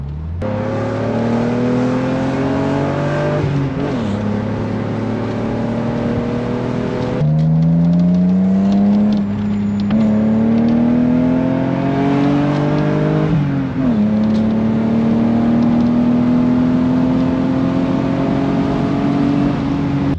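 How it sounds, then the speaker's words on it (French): A BMW 328i E36 convertible with a six-cylinder engine drives along, droning loud and close as its tone climbs through the gears, dropping back at each shift and rising again, with no talking. "je conduis une 328i E36 aujourd'hui"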